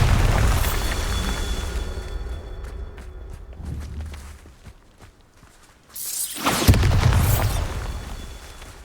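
Bombardo blast spell in Hogwarts Legacy, with a heavy rumbling explosion at the start, quieter footsteps and a fading roar, then a second loud boom and crackling burst near the end.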